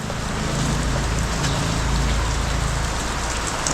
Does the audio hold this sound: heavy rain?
yes